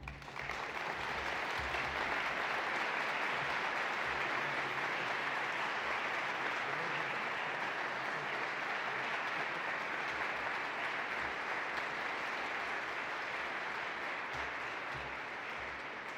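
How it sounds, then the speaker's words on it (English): An awards ceremony audience applauds in sustained, dense clapping that holds steady and loud for the whole stretch before slowly easing. "One more round of applause, please."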